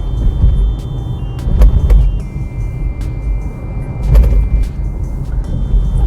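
A Tata Altroz climbs a highway incline, its engine and tyre rumble steady and close from the cabin, swelling slightly a couple of times with faint ticks and clicks inside.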